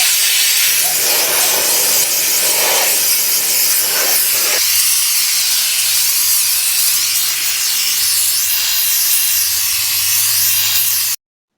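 A Dupray steam cleaner blasts an oven with a loud, continuous close hiss of steam, broken by a few brief scrubbing bursts, and a low hum underneath before it cuts off sharply.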